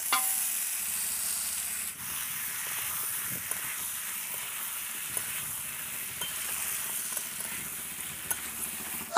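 Bottle gourd and potato cubes sauté with spices in a pan, a soft, fairly quiet sizzle broken by scraping stirs and small knocks of a spatula, no one speaking.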